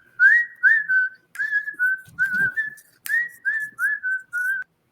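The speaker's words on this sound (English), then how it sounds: "I was whistling what I thought the guitar solo was supposed to do." A melody whistled in a series of clear, steady notes with short pauses between phrases, close and fairly loud, no other sounds.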